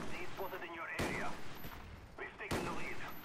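Two sharp, loud sniper rifle shots in a video game crack about a second and a half apart, each with a quick decaying tail, over a busy game soundscape.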